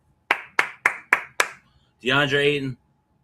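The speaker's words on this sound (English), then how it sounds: "We got to give you a round of applause along with LeBron James." Five sharp, evenly spaced hand claps ring out close and alone, followed after a short pause by a brief spoken voice.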